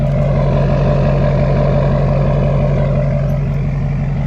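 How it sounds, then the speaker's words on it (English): A pickup truck with a stock downpipe idles loudly nearby, its engine and exhaust giving a steady low rumble with no revving and no voices. "I love the way this truck sounds."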